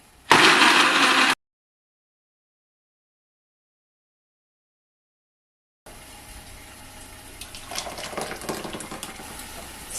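A kitchen blender whirs briefly while blending pepper, onion, calabash nut and water for egusi pepper soup, a loud short burst followed by silence and then fainter kitchen clatter and running noise.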